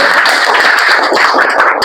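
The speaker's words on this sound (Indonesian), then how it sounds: "Ya, bagus, tepuk tangan ya" Classroom applause from eighth-grade students: close, loud, uneven clapping with sharp individual claps standing out throughout.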